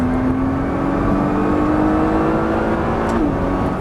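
A Nissan GT-R accelerates on a race circuit, its engine note climbing steadily under load as a loud, continuous drone that steps down sharply near the end.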